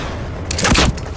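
Gunfire in the video game Fortnite: a short cluster of sharp, bright shots rattling out together around mid-clip, moderately loud against a low game background, with no talk over it.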